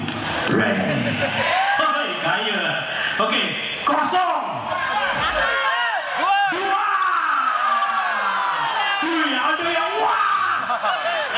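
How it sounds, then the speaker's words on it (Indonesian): Crowd at a Yamaha carnival lucky draw in Malaysia, loud continuous cheering, whoops and clapping mixed with an amplified voice, busy and close throughout. "Tepuk!"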